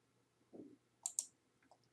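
Mouse clicks on a computer icon, two or three quick, sharp clicks close by with a soft thump just before them, in near silence.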